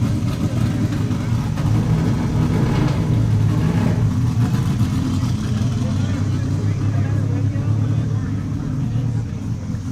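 An 800-horsepower collector car at the Cincinnati Concours d'Elegance rumbles and revs nearby, its deep engine note steady and loud for the whole stretch while people talk over it.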